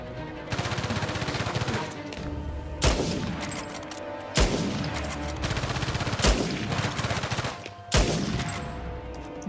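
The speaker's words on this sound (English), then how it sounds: "Oh, they're shooting from the other side?" Sustained automatic gunfire from an Uncharted 4 firefight rattles continuously, broken by several heavier booming shots spaced every second or two, loud and close throughout.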